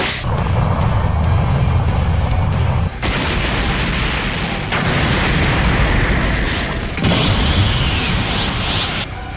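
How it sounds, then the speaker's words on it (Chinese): A Dragon Ball anime explosion effect: loud, dense roaring blasts in several back-to-back surges with sharp cuts between them, filling the whole span without speech. "随着爆炸响起，茴香从巨石中跳出，他变成了超级赛亚人。"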